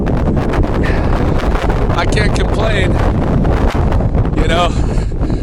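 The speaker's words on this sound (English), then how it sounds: "It's a windy day" Gusty wind buffets the microphone throughout, rumbling loudly while someone speaks briefly.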